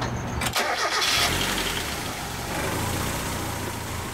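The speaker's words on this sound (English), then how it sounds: "go ahead and start the engine." A Mazda Miata engine cranks briefly and catches, then settles into a steady, close idle that runs on alone with no voices.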